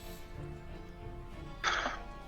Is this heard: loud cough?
yes